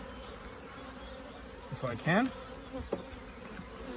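Honeybees buzz around a hive as they are shaken into a box to set up a new colony, a constant drone with a louder close pass and a few short words spoken.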